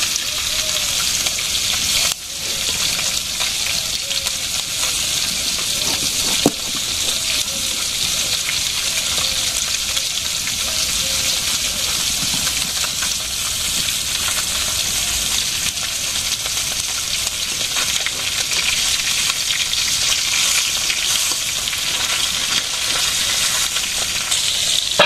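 Fish frying in a pan in a village kitchen, a steady, loud, continuous sizzle and crackle throughout with an occasional clink, no talking.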